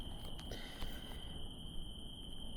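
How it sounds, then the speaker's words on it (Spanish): Crickets chirping at dusk, a thin continuous high trill holding steady behind faint outdoor ambience, with a few soft clicks near the start. "de Émile Cioran, con el ruido de los grillos de fondo y el atardecer"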